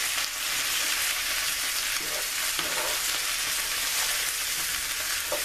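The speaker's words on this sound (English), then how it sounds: "Look at those onions and how they brown." Onions and potatoes for home fries sizzling in hot oil in a pan, a loud, steady frying hiss with occasional stirring scrapes, up close and without speech.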